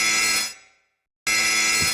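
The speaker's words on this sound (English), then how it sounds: "If we go inside, an alarm will start ringing." Elevator alarm in the video game Silent Hill 2, a harsh electric bell ringing loudly, cutting out abruptly into a brief silence and then snapping back on at full volume, with no voices.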